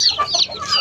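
A rooster clucks in quick, close bursts, several short rising calls in under a second with nothing else over them.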